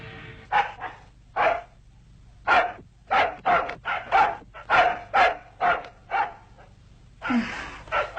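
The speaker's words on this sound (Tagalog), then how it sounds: "Pabira naman aso yun, ang ingay-ingay." A dog barks repeatedly, a dozen or so sharp, fairly close barks in an uneven rhythm, ending with a higher yelp-like bark.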